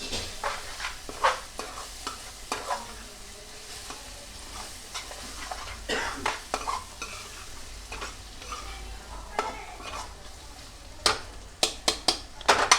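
Chicken stirred and frying in a pan, a low background sizzle broken by frequent sharp scrapes and clinks of a spoon against the pan, close and without speech.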